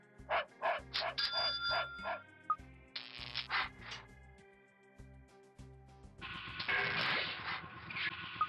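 Guard dogs in the video game Constructor Plus bark in several quick, loud bursts, mixed with chiming game effects and steady music.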